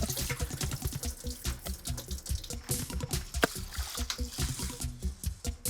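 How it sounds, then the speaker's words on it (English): Rice being rinsed in a bowl of water and agitated by hand, close sloshing and swishing in quick irregular bursts, continuous throughout. "what you're looking for is for the water to become more clear so you can actually see the rice through it after you've agitated it"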